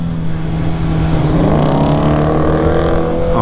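A Suzuki Hayabusa motorcycle engine drones loudly and continuously while being ridden, its pitch climbing as the rider accelerates in first gear, with rushing wind noise mixed in.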